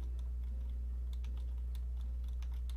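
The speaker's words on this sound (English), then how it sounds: "You typing?" Light, scattered keyboard taps over a steady low hum in a visual-novel game scene, soft and irregular with no voices.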